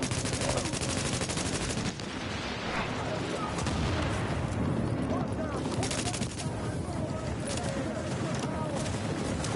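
Sustained rapid gunfire loaded with incendiary ammunition in The Division video game. Dense, continuous automatic bursts fill the whole stretch, loud and close, with a brief dip near the start.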